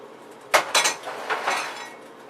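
A pepper grinder cracks fresh black pepper over a soup broth in a home kitchen, giving a few short, crunchy twisting bursts up close against a quiet background.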